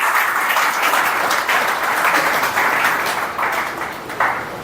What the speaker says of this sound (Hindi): ताली बजाइएगा